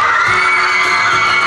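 A loud live crowd at a Big Brother show event in Międzyzdroje in 2001 cheers and applauds for Janusz's team, producing a dense, continuous roar of shouts and clapping with no pauses.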